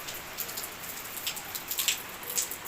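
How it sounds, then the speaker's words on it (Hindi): Rain falls steadily outside on a residential street, with a continuous close hiss and patter of drops hitting surfaces, moderate in level and without voices. "मौसम बहुत प्यारा हो गया है, बारिश शुरू हो गई है।"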